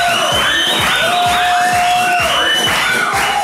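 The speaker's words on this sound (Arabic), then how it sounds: "تصفيق على سيرين مزوز" A studio audience on a television show cheers and whoops for the guest Sirine Mezouz, a loud, sustained crowd reaction with rising calls over a rhythmic thumping beat.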